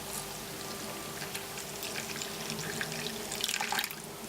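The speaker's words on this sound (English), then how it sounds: "top up the liquid so that you get 300 millilitres with some warm water" Warm water running from a tap into a measuring jug, a soft continuous splashing stream with faint bubbling that grows slightly fuller toward the end, quiet and close with no talking.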